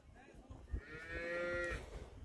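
A dairy cow gives a single drawn-out moo in a small herd of dairy cattle on a farm, clear and moderately near, with faint barn noise and no talk.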